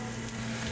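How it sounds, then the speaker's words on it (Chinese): A Shanghai-style scallion pancake pan-fries in plenty of oil until golden and crisp, giving a brief, even sizzle over a low steady hum. "这个煎呢，这个是要煎到金黄色，是脆脆的"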